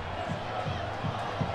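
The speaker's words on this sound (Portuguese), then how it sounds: "A torcida que canta e vibra, comemora." Football crowd in a Campeonato Paulista match, Mirassol versus Palmeiras, singing and cheering as a broad, steady roar, with rhythmic swells from the stands.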